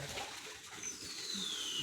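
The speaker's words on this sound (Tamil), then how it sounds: "தண்ணி ஊத்துறாங்க" Water pours in a steady, soft, continuous stream, heard at moderate distance with a faint high tone drifting over it, no voices present.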